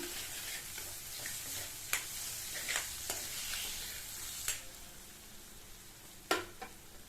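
Masala with turmeric and salt fries quietly in a pan while a spoon stirs through it, producing a soft continuous sizzle with several sharp scraping clicks against the pan.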